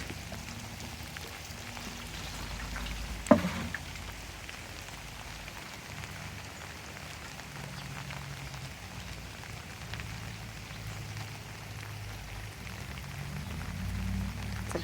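Rain falls steadily in a garden, a soft continuous patter on surfaces with one sharper drip or knock near the start, lasting throughout at low, even level.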